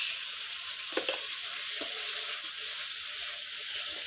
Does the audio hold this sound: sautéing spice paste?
yes